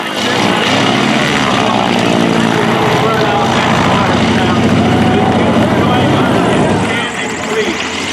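A loud, steady propeller-plane engine drones close by at an air show, its throbbing roar filling the air before easing slightly near the end, with a voice faintly over it.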